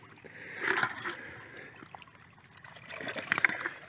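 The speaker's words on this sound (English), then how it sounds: "there is some water down here, leakage" Water leaking into a boat, faint trickling and small splashes in two soft bursts, close by and quiet with no talk.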